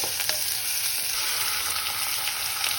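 Onion, garlic and ginger sizzle steadily in hot oil in a pan for a Bicol Express dish, a loud continuous frying hiss with faint stirring.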